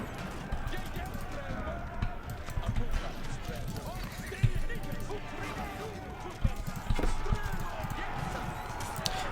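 Horse hooves clip-clop in the Age of Empires 4 Normans campaign battle, The Fall of Bayeux, 1105, as a busy patter of hoofbeats and scattered thuds under a dense game soundscape.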